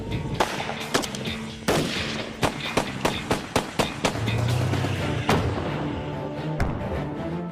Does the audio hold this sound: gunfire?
yes